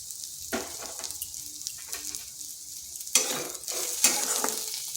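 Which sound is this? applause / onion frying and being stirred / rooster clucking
onion frying and being stirred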